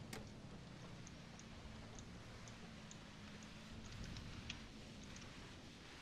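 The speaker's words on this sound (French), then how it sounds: "c'est pas facile avec la vitre qui est pleine de pluie" Steady rain patter on the windscreen of a bus in the OMSI 2 driving simulator, a continuous soft wash of noise with faint scattered drop ticks and a low engine rumble underneath.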